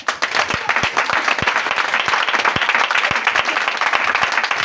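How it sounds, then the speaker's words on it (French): A church congregation claps and applauds together in a lively, sustained burst with a steady rhythmic beat running through it. "Acclamons le Seigneur."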